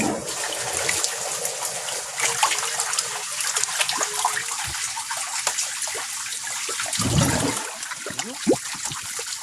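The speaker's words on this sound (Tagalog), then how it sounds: "Huhugutin na natin to para ma-drain yung tubig." Water gushes and gurgles steadily through a koi pond drain pipe, a loud rushing flow with bubbling surges, no voices.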